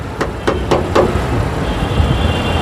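A 2021 DFSK Glory seven-seater car engine runs close by with a steady low rumble. Several sharp taps or knocks sound over it at the start.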